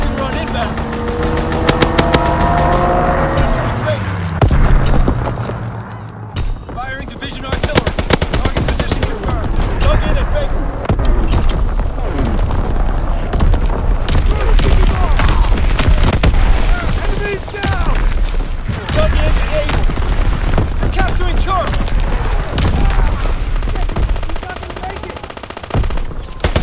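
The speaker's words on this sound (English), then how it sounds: "Strafing run inbound." Aircraft strafing fire in Call of Duty WWII on the Shipment 1944 map: loud, rapid machine-gun bursts and booms rattle almost continuously beneath game voice lines and engine noise.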